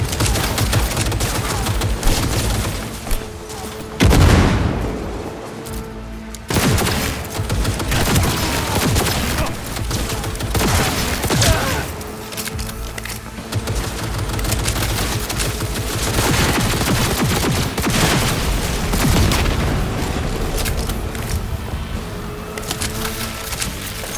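Sustained gunfire in the video game Cyberpunk 2077: dense, loud bursts of automatic fire and rapid shots layered over explosions and a continuous busy game soundscape, with brief lulls between volleys.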